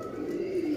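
A domestic pigeon coos close by in a steady, continuous low murmur with no speech over it.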